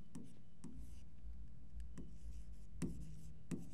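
A pen writes out the date by hand, giving faint scratching strokes broken by several sharp taps as the pen touches down, close and quiet with no talk.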